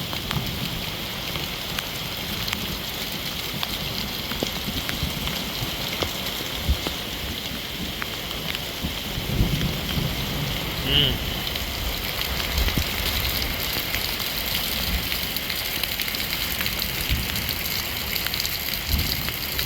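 Steady rain pours down in the woods without a break, a dense even hiss of drops falling all around.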